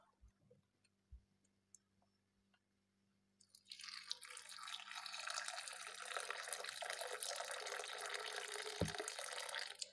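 Boiling water is poured from a kettle over cinnamon sticks in a cup for a drink, a steady close splashing gush that starts after a few soft clicks and continues evenly, with no talking.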